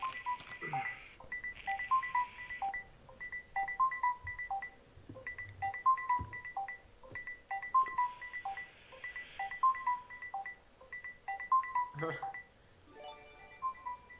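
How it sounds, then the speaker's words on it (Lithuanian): A phone ringtone repeats steadily in a patterned electronic melody, fairly clear and close, while a Call of Duty: Cold War Zombies game plays quietly underneath. "Oi, tai skambina kažkas."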